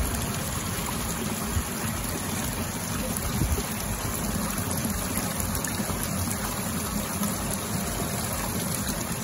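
Spring water gushing continuously from a source in Japan and flowing on toward a river, a steady, fairly loud broadband rush with a constant trickling texture and no voices.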